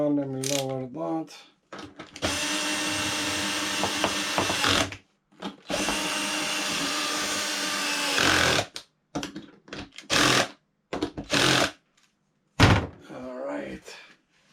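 A cordless drill whirs in two long, loud bursts and several short ones while a custom rider backrest is installed on a Harley-Davidson Evolution Softail. A voice is heard briefly between the bursts.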